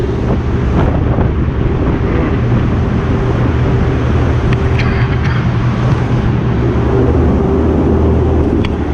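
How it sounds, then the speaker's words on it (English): Strong wind roars steadily into the microphone on the deck of the Ocean Diamond ship, buffeting it continuously, with a low rumbling drone of engine and water beneath. "let's get out of this wind"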